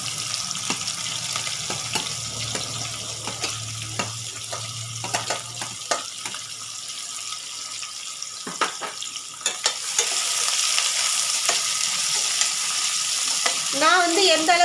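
Chopped large onions sizzle loudly in a hot pan with intermittent scraping and stirring clinks, the frying hiss swelling louder toward the end, with no talk over it.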